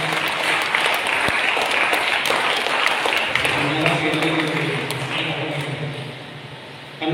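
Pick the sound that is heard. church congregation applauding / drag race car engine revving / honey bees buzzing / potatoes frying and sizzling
church congregation applauding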